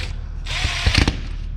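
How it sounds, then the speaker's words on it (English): A power drill runs screws down tight, giving a short whirring burst with a few ratcheting clicks near the end, close by and alone. "I'm going to go ahead and run all these screws tight."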